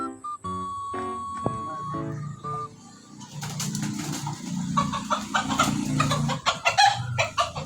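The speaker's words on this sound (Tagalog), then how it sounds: "Mga manok dito." Chickens clucking close by outdoors, a rapid series of short clucks and squawks over faint background chatter.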